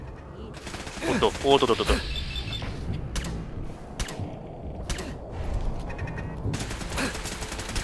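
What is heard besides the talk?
gun turrets firing in video game Fallout 4 Nuka-World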